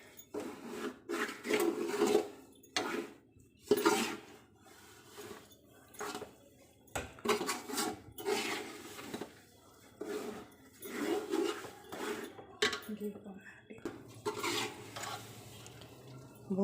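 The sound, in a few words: semolina for halwa being fried and stirred in pan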